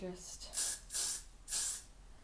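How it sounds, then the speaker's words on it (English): Hairspray is sprayed onto a styled cosplay wig in three short hissing bursts, close and fairly loud, after a faint breathy sound at the start. "put a little spray on the back there"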